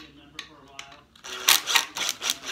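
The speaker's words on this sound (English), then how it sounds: "I'll get these screws started up." A power driver sinks screws into a wooden crown, giving several bursts of whirring and clicking that grow louder and come close together after a quieter stretch with light taps.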